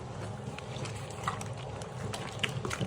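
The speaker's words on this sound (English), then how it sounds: "once you have the pads in the warm soapy water, you kind of just want to mush them around a bit" Motorcycle helmet pads from an AGV Pista helmet get mushed around by hand in warm soapy water, giving faint, soft sloshing and squelching with small splashy spikes, heard up close and quiet.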